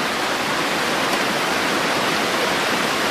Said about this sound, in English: Crossing Juniper Creek